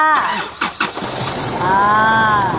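A car engine cranks with a few quick starter pulses, then catches and settles into a running idle nearby, with a voice speaking over the start.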